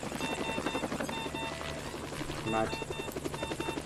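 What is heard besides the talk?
helicopter landing beside a motorway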